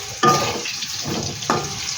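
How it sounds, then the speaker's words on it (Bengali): Potatoes frying in a pan for aloo dum, cooked alongside winter vegetable khichuri: a steady close sizzle that flares sharply twice as pieces are stirred or dropped into the hot oil. "আলুটা একটু আমি ভেজে নিচ্ছি"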